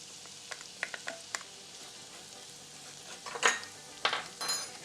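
Ginger hits a hot pan of garlic for quinoa fried rice, giving a faint steady sizzle with scattered sharp clicks and scrapes of utensils against the pan.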